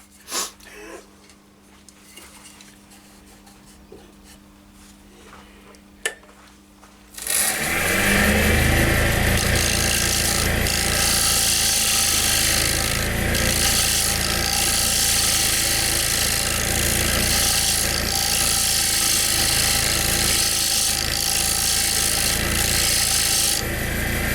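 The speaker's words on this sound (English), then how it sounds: "I'm just going to try very fine scraping to try and get rid of this little ridge" A small wooden dish made from offcuts spins on a wood lathe while a tool does fine scraping across it: a quiet room, then a sudden steady, loud, close rasping hiss that continues without a break.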